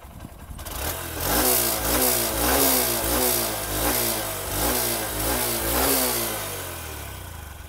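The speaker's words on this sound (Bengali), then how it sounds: "এটা হচ্ছে বাইকটার এক্সস্টের সাউন্ড" A 2025 Honda SP125 motorcycle engine revs repeatedly up and down in a steady rhythm, loud and close, with a throaty exhaust note.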